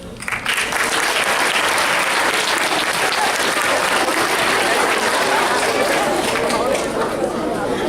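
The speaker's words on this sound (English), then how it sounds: "give a round of applause again for them for giving us some advice" A school audience at Rio Calaveras School applauds high school student presenters from Tracy High, a loud, dense, sustained wash of clapping with crowd chatter mixed in, holding steady for the whole stretch.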